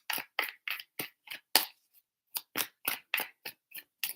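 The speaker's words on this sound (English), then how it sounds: "3 shuffles." Tarot cards shuffled close up in quick crisp bursts, about a dozen sharp riffling snaps in a steady rhythm with a brief pause midway, with no talking.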